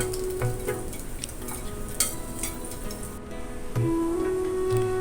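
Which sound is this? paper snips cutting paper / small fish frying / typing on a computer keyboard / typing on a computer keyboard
small fish frying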